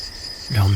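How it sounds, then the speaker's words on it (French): A quiet hiss gives way near the end to a sudden, loud, steady insect trill, like crickets chirping close by. "les grillons chantent."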